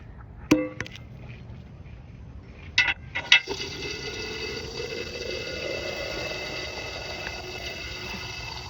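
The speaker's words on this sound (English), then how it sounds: "I had to refill Chubby's water." Water is poured to refill a pet's water bowl indoors, a soft, faint stream lasting several seconds that follows a few sharp clicks and knocks as the bowl is handled.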